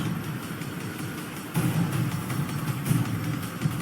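A steady low taxi engine rumble in Mass Effect 2 Legendary Edition, like a car cruising along, with a slight surge partway through and no voices.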